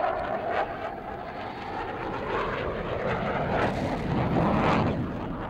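A US Air Force F-15 Eagle fighter jet at a flight demonstration gives off a continuous loud, broad engine roar that swells slightly over several seconds, heard alone.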